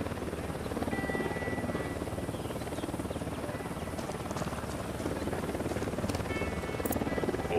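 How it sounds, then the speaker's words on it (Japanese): Helicopter approaching in the video game Ghost Recon, a steady loud rotor drone throughout with no voices over it. "こっちにヘリが来る。"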